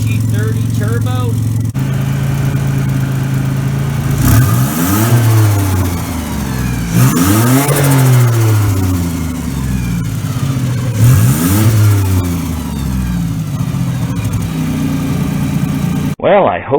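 A Nissan 300ZX with a VG30 turbo engine idles close by and is revved three times in quick, sharp sweeps, while someone talks over the engine.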